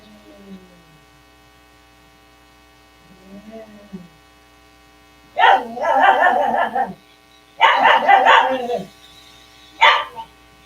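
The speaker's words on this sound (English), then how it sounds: "ignore my dogs because they're gonna continue barking like that" Dogs indoors let out a few low whines, then break into three loud bursts of barking, each lasting a second or two, over a steady electrical hum.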